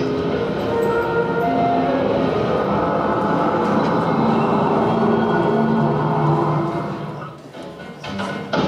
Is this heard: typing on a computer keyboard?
no